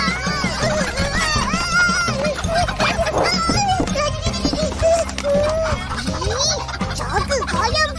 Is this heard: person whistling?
no